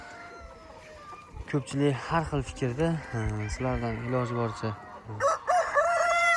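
Andijan black chickens cluck and a rooster crows repeatedly on a small home farm, loud and close, with someone talking over and between the calls.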